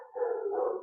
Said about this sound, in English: Leave it to the dogs to start barking once we start lecturing here.